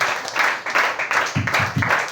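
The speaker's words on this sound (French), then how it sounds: "Donnons des acclamations pour le Seigneur Jésus-Christ." Church congregation applauding during a French-language Sunday school service, a moderate, uneven patter of clapping with rhythmic bursts near the end, mixed with faint voices.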